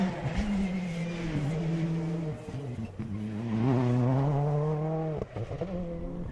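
A Citroen C3 rally car drives hard on a stage of the Cork 20 International Rally, its engine close and loud, with rising and falling revs and sharp drops at gear changes.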